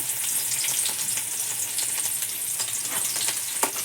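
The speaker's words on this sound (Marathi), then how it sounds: "बघू शकतात आपण अशा मिरच्या तळून घेतोय आता" Green chilies fry in a small amount of hot oil in a wok (kadhai) for a potato chivda; a steady, close, dense sizzle and crackle runs throughout with no talking, and one sharper pop comes near the end.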